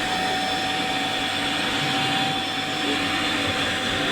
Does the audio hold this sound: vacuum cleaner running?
yes